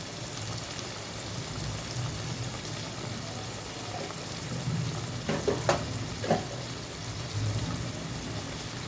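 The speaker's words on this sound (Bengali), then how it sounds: "তারপর মশলাটাকে ভালো মতো কষাতে হবে" Spice paste with salt and turmeric sautéing in a pan for steamed hilsa with poppy seed, mustard and nuts gives a steady close sizzle, with a few louder stirring scrapes midway and no talk.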